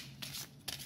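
A tarot card slides from the deck in two short papery swishes, close and soft, with a brief pause between them and no voices over them.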